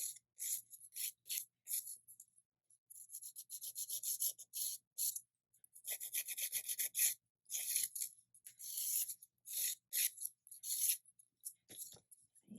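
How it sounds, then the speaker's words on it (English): A nail file lightly rasps along the free edge of a fingernail in short repeated strokes, close and quiet, with brief pauses between bursts and no talking. "take out your file and you're going to just lightly file the free edge"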